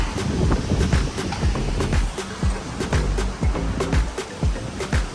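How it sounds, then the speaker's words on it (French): A small decorative waterfall splashes beside a hotel swimming pool in Singapore, giving a steady, close rush of falling water with some wind buffeting the microphone. "sur le côté, il y a une petite cascade sympathique"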